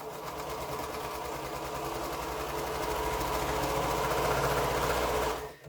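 A sewing machine chain-pieces quilt pieces with a quarter-inch seam, a close, loud, continuous rapid whir that holds steady for several seconds before stopping.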